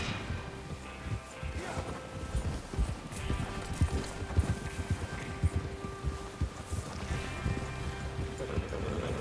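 Horses' hooves clip-clop steadily in the open-world western game Red Dead Redemption 2, a dense rhythmic trot or gallop under wind and ambient game sound, with occasional low voices and no break across the stretch.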